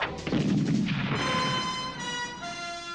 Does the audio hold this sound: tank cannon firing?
yes